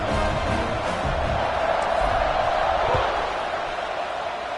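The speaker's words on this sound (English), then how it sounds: "this crowd is buzzing after that last score" Stadium crowd noise in a college football video game, a steady dense roar of cheering that holds loud and even throughout after a score, with no commentary over it.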